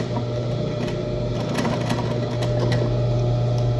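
A sewing machine runs steadily while stitching the finishing seams of a Kelly-style handbag, giving a continuous close mechanical hum with faint ticking and no pauses.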